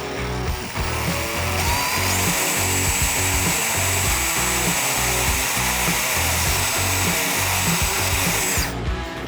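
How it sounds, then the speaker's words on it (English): A drill bores a pilot hole in the plastic lid of a Harley-Davidson tour pack, a loud steady whine with a rough grinding texture that runs for nearly the whole stretch before stopping. "We're gonna do a pilot hole for that 3/4 right here in the middle of this one."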